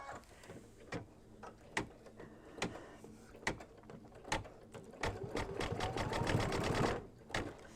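A sewing machine stitches fabric for an appliqué mug rug. Slow, quiet clicks and thumps come first, then the motor runs into a faster, steadier whir of stitching near the end.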